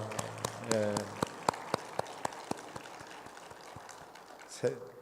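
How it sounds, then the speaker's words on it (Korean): A church congregation claps for the choir at an early-morning prayer service, a short round of scattered, sharp individual claps that thins out over a few seconds, with a faint voice near the end. "큰 박수로 격려하도록 하겠습니다"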